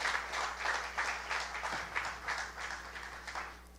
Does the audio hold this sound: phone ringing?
no